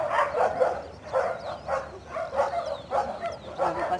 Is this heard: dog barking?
yes